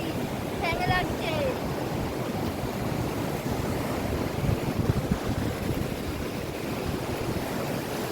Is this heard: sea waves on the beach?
yes